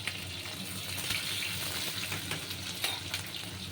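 Garlic frying in a hot pan, giving a continuous close crackling sizzle with small pops that holds at a steady level throughout, without any speech.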